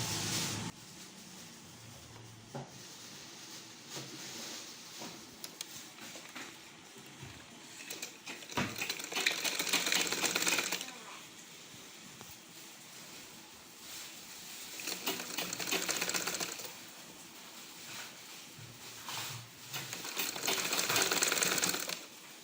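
A sewing machine stitches a flared sleeve in short bursts, its rapid mechanical whirr rising loud for several seconds at a time, then dropping to quieter handling noise between runs.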